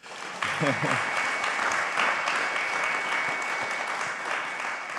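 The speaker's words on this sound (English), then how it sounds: "If you give a round of applause for our panelists." Sustained applause from a panel session audience fills the room, steady and dense, with a brief voice heard near the start.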